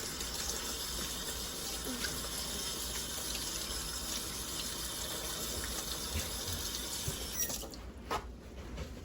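Water runs from a tap for washing in a kitchen, a steady hissing gush continuing at moderate level before cutting off near the end.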